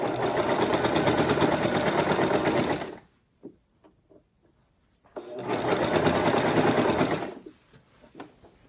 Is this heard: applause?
no